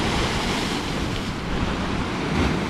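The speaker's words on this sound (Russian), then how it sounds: "Вот так, друзья, бушует море." Stormy Black Sea waves crash and roar along the Yalta shoreline, loud and close, mixed with gusting wind buffeting the microphone in a continuous, surging wash of surf.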